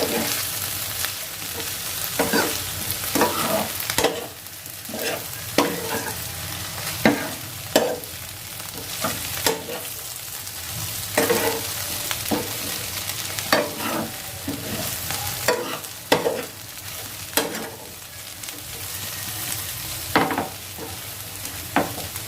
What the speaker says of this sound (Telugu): మనం ఒకసారి ఇటు అటు కలుపుకుందాం. బాగా కలుపుకుందాం.